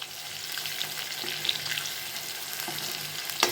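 Green chillies sizzle steadily in hot tempering oil in a pan, a continuous close frying hiss with small pops and no talk.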